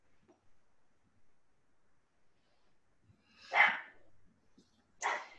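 Dogs bark twice in the distance, a louder burst followed about a second and a half later by a shorter one, against an otherwise quiet background with faint low rustles.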